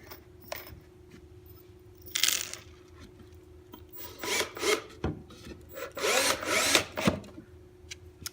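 Cutting through plastic on a wooden mold board for aluminum casting, a rough rasping, grinding tool sound in uneven bursts that grow louder toward the end, close by with no talking.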